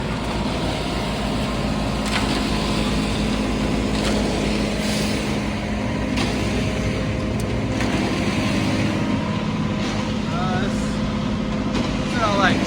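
A concrete mixer truck engine runs at a steady, elevated rumble around 1,700 rpm with intermittent clanks and clicks, while people talk briefly over it.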